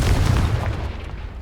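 Confringo fire spell exploding in Hogwarts Legacy, a single loud, deep boom with a rumbling low-end tail that decays over about a second.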